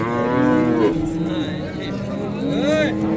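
Calf at a livestock market moos repeatedly in close, drawn-out calls, with a second moo near the end, over steady crowd chatter and people talking nearby.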